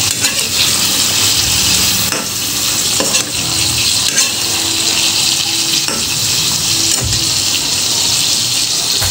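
Bitter gourd (ampalaya) frying with tinabal in a pan, giving a steady, close hiss and sizzle with occasional stirring scrapes and clatter, no voices.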